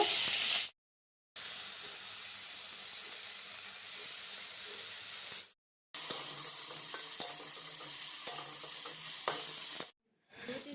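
Chicken filling with cumin powder sizzles and frys in a pan while being stirred, a steady bright hiss broken by two short silences, with scraping stir strokes and no talking.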